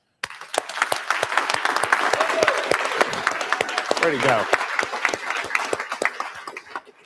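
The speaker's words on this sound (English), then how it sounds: "let's give a round of applause to Ash" A demo day audience breaks into a round of applause, scattered sharp claps building into steady clapping from a modest crowd, with a voice speaking briefly in the middle before the clapping tapers off.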